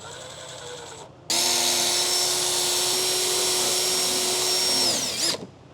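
A power drill with a very small bit whines loudly and steadily for about four seconds, close by, drilling through thick BMW E46 body metal, then winds down and stops.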